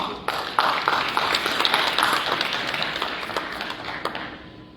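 Audience applause at a local content conference, a steady wash of many hands clapping for a speaker, fairly distant and sustained for several seconds before tapering slightly.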